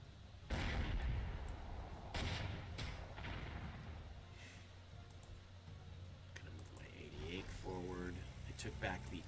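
Tank and artillery fire from World War II combat in the Panzer Corps 2 strategy game, with a T-34 and a Panzerjäger engaging: a sharp boom, then a few distant shots over mechanical clicks and ticks, fairly faint.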